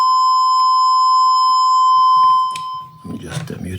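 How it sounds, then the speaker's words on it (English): A DSP signal tracer test module sounds a steady electronic alarm tone, loud and close, which cuts off after a couple of seconds and gives way to someone speaking. "if I now cross these limits, it sounds an alarm 5 times and it freezes the frame"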